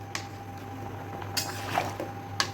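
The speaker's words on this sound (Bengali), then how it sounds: "এখন মশলার সাথে ভালো করে মিশিয়ে দিচ্ছি।" Raw mango pieces being mixed with turmeric and roasted cumin powder for a sweet-sour pickle, soft wet squishing with a few sharp clicks and scrapes, quiet and close with no talking.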